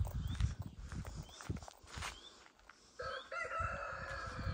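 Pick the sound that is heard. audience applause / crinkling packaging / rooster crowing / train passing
rooster crowing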